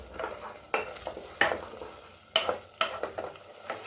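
Masala spices, chili powder among them, fry over medium flame while a spoon stirs them in a pan for idli kurma, a soft sizzle punctuated by several sharp scraping strokes, close and quiet.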